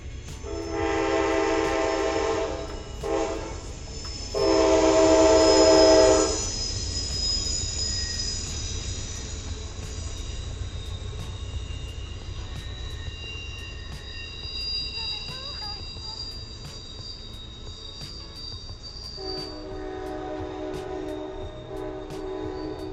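An Amtrak Pennsylvanian passenger train rounds Horseshoe Curve, with sustained high wheel squeal and bursts of horn-like tones over a low rumbling rail drone, loud at first and then easing into a steadier rolling hum.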